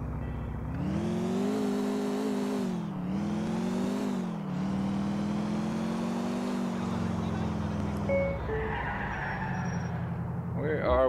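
A stolen car in GTA IV drives hard with a loud, steady engine drone that rises and dips with throttle, tires skidding briefly, and a few sharp game effect tones near the end.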